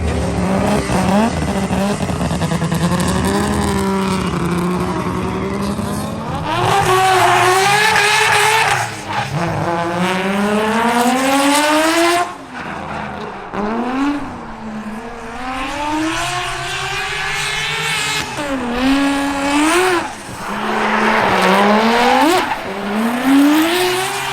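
A 3-rotor Mazda RX7 drift car at a drift competition track, its engine screaming and rising in repeated revs with tire squeal and skidding, loud and close throughout, briefly dipping between bursts.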